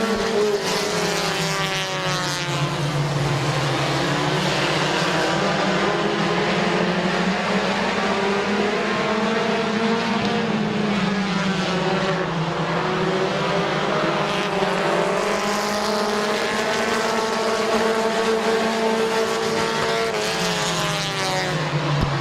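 Compact race cars at Midvale Speedway roar continuously in a feature race, several engines droning and shifting pitch together as they pass, loud and sustained throughout with no talk over them.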